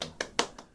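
A church congregation claps in a short, quiet burst: about five separate claps land in less than a second, evenly spaced and soft, with no talk over them.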